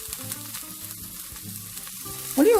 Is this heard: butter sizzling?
yes